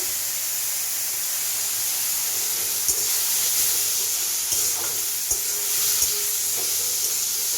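Garlic paste hits hot oil in a pan for a Bengali rui fish kalia, giving a steady loud frying hiss with occasional crackles and stirring clicks throughout, no talking.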